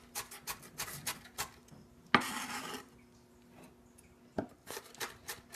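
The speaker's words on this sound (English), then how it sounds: "I'm just about finished chopping up the onion." Knife chopping an onion on a board at home: quiet, irregular clusters of taps and scrapes with a brief louder clatter midway, close by and without talk.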